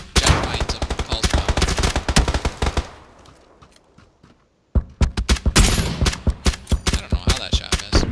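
Rapid video game gunfire rattles out in dense automatic bursts, loud and close, broken by a brief quiet lull before another volley of sharp shots.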